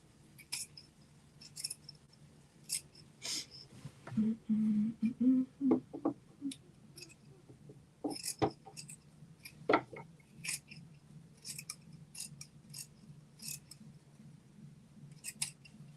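Scissors trimming fabric during sewing, a quiet series of sharp close snips and clicks scattered irregularly over the whole stretch, with a low hum underneath.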